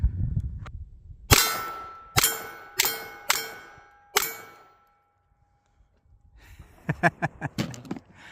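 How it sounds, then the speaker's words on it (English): A .22 Long Rifle pistol fitted with an RMR red-dot sight fires five sharp shots spaced about a second apart, each ringing out briefly, followed by a pause and then a quick burst of several lighter clanging shots. "I pulled that first shot horribly. Low and right there, but we got 3 or 4 more dead center there."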